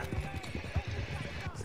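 Horse hooves clip-clop in a steady trotting rhythm while riding in Red Dead Redemption 2, fairly faint and mixed with game ambience and background talk.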